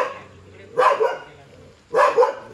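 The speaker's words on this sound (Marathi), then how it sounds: "हा कुत्रा लय ओरडतो." A dog barks in two short bursts about a second apart, fairly close and loud, with quiet outdoor background between the barks on a rural village outing.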